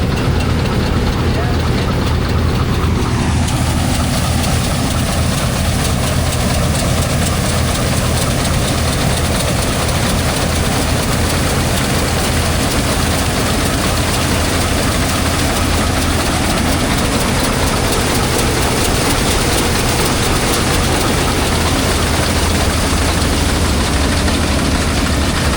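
A 4-cylinder Wisconsin engine idles loudly and steadily at a farm show, a continuous low rumbling chug with a fast, even rhythm that fills the whole stretch without letting up.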